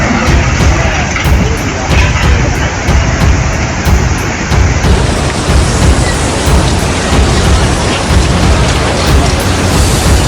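Heavy rain pours steadily during a flash flood in Chile's Atacama Desert, a loud dense roar with low rumbles of thunder rolling beneath it throughout.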